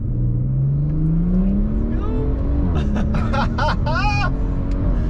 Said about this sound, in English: Do a second gear pull from 20 miles per hour.